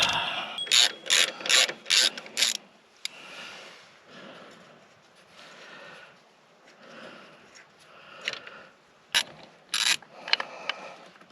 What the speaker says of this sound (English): So they are T45 Torx, and we will get those popped off.